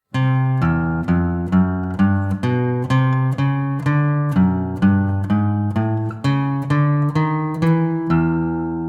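An electric guitar plays a stepping, note-by-note line in the low register, each pick attack distinct and evenly spaced, moving chromatically like a walking bass line connecting chords, with no voices.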